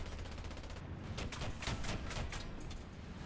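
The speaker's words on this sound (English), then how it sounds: "luckily we do have quite a few machine guns as backup" Rapid machine-gun bursts from a Panther A tank in War Thunder, a steady crackling stream of shots rattling for a few seconds at moderate loudness with no voices.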